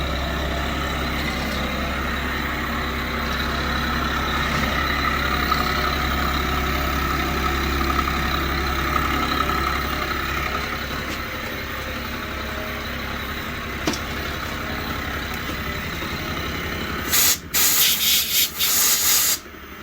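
A Union cutter grinder mills a modified bed, giving a continuous low motor hum with grinding and rubbing noise, then a burst of sharper, louder scraping near the end.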